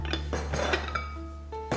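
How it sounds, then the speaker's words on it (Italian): Two bowls being taken out and set down during liqueur making, a few sharp clinks and clatters of dishware in quick succession, close and distinct, with ringing tones fading between knocks. "prendiamo 2 bowl"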